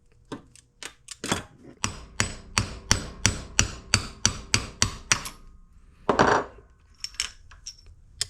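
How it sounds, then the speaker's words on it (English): Sharp metal hammer strikes knocking the bearing and shaft out of a Vespa Rally 200 cush drive, a steady run of about a dozen evenly spaced ringing blows followed by a scraping clatter and a few lighter taps. "All right, knock the bearing out and the shaft out."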